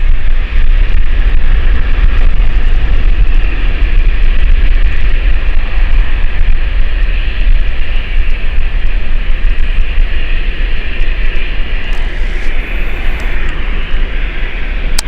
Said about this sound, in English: It's such a unique noise of the aircraft and the engine.